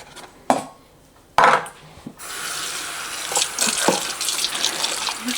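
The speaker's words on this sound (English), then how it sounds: "Next, just gonna rinse the coriander in the colander." Tap water runs steadily into a sink as coriander is rinsed in a colander, after a couple of sharp clatters of the colander and dishes at the start; the flow is close and continuous with occasional knocks.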